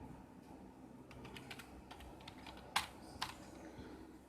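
Keys clack on a computer keyboard in a quiet room, a loose run of soft taps with two sharper, louder strokes near the end, no talking over them.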